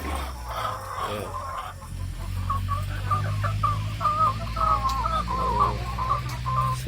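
Dekalb White backyard layer hens clucking steadily and close by, a chorus of overlapping murmuring clucks and short calls over a low background hum.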